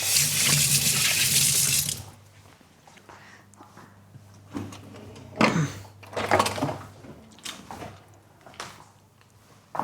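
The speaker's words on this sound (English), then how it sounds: "Wash my hands." Hands washed under a running kitchen tap, a loud steady gush of water for about two seconds that then shuts off, followed by quieter scattered clatter and handling noises.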